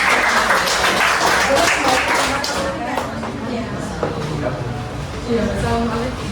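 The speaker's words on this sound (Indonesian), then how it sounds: "Beri tepuk tangan untuk kita semua" A classroom of students claps together after finishing a presentation, a dense, close patter that continues throughout with voices talking and calling out over it.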